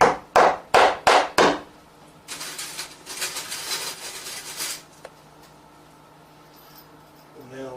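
Hammer strikes drive nails into the hide of a whitetail deer head mount, five sharp evenly spaced taps close up, followed by a stretch of rustling and handling noise.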